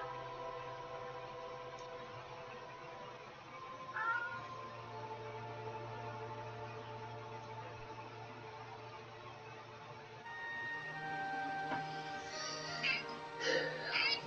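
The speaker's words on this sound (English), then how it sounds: "We've got the same obnoxious cat needing all the obnoxious attention she can get" A female house cat meows repeatedly for attention, with several clear, fairly close calls toward the end over a steady background hum.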